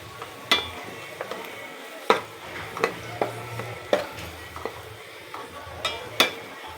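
Spoon stirring a besan, potato and onion mixture in a pan, with a series of sharp scraping clinks against the pan at an irregular rhythm over a faint background.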